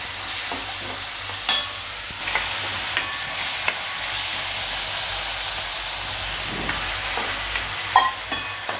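Chopped potato and vegetable mixture frying in a kadhai, with a steady close sizzle broken by scattered scraping clicks and knocks as the spatula stirs it.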